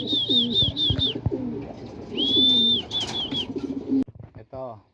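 Racing pigeons cooing at a loft as birds return from a 130 km training race, low throaty coos repeating close by, with high whistling calls and a few clatters mixed in.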